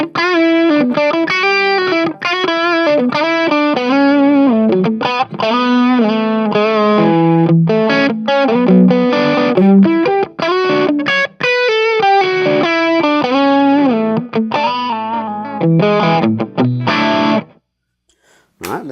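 An electric guitar played through a Tube Screamer overdrive pedal over a JOYO JW-02S wireless system rings with a gritty, distorted tone, with strummed chords and single notes played continuously and loud before cutting off near the end.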